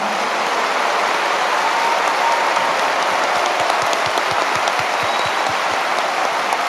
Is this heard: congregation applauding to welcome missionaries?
yes